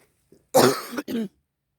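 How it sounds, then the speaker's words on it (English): Two quick coughs close to the microphone, the first longer and stronger, the second a shorter follow-up. "Excuse the cough."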